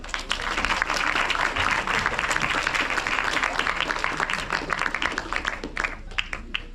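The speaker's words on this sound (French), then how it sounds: "Je pense qu'on peut l'applaudir." Audience applause for Alix Véronèse at a masterclass, a dense and steady clapping that fills the room from start to finish and thins slightly near the end.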